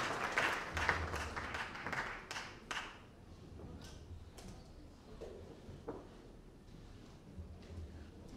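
A church congregation claps at a pastoral investiture, with several sharp, uneven bursts of hand claps up front that thin into scattered, fainter claps and soft knocks toward the end.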